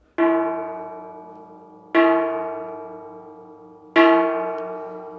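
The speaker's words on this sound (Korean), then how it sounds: "사물놀이 할 때 썼던 징하고 소리가 비슷합니다." A Buddhist temple jing gong is struck three times at even intervals, each hit ringing with a bright shimmering tone that slowly fades before the next.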